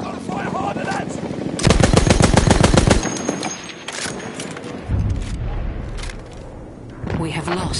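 Video game battle gunfire, a rapid automatic burst standing out loud and close amid continuous shooting and explosions, with a voice talking over parts of it.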